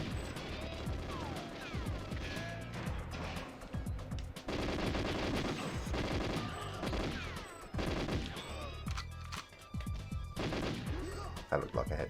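Sustained automatic gunfire from the video game Goldeneye rattles through a long stretch of fast repeated shots, with brief pauses, ricochet-like pings and a voice speaking over it.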